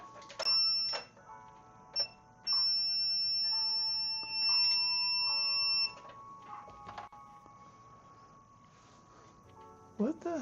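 An electronic tester hooked to a PS5 under repair gives sustained high beeps, with one short beep between longer tones, then falls quiet and ends in a few brief clicks.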